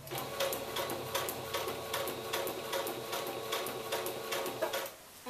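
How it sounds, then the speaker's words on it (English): Sewing machine stitching black hammock fabric, a steady, close mechanical whir and clatter running throughout with a rhythmic ticking of the needle, no talk. "I'm sewing my black hammock."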